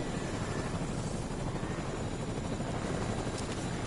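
A helicopter in a video game gives a continuous faint whirring rotor drone, steady and even throughout with no talk.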